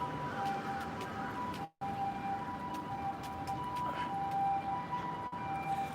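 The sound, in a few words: ambulance siren passing on a Tokyo street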